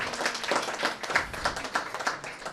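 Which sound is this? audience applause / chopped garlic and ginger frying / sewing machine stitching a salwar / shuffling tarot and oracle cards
audience applause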